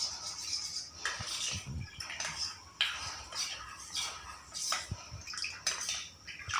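Cornflour being whisked into water with a spoon in a home kitchen while making vegetable soup: close, steady clinking and scraping of metal against a bowl in quick uneven strokes, with faint watery swishing and no talk.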